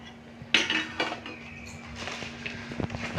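A spoon stirs a ladoo mixture in a metal pan, producing close, irregular clinks and scrapes of metal on metal over a quiet background.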